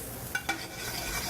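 Minced garlic and ginger cooking in a pan as the base for a black pepper shrimp sauce, a soft continuous hiss with two quick utensil clicks early on.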